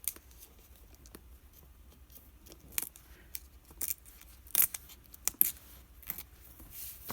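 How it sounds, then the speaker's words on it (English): Paper torn by hand along an edge for a dictionary-page craft embellishment, faint quiet tearing and rustling in short bursts, close to the microphone with no talking. "I want to rip off that edge"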